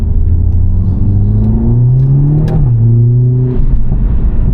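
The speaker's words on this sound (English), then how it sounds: "It's so easy to hit the rev limiter when you're in manual mode." A Mercedes-AMG A45 S engine revving hard in manual mode, a loud close rising drone that climbs to a peak, drops briefly, then holds, with no talk.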